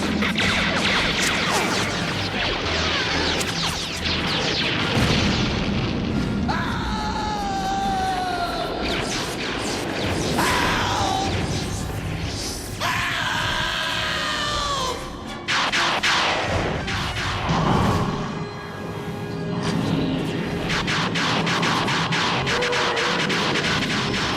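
Laser blasts and explosions from a Transformers cartoon battle crash and zap loudly and almost without pause, with layered whooshing and impact sounds and no clear talk.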